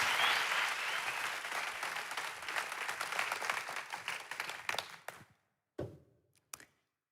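A church congregation applauds together, a dense, loud wash of clapping that holds steady for about five seconds and then stops, followed by a few isolated claps and taps.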